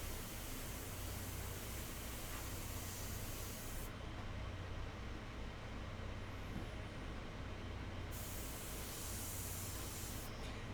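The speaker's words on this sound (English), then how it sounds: "And while I'm here with the airbrush," An airbrush spraying India ink onto a portrait painting gives a steady, close hiss of air that runs continuously, shifting slightly in brightness partway through, with no voices.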